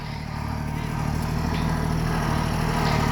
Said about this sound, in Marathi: हे बघा ट्रॅक्टर थांबलेला आहे